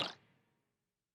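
Layered magical bonus effect for a casual game, blending a water splash with a marimba note and a rock stroke, processed with compression and light delay; a single bright hit that rings out and fades smoothly within half a second.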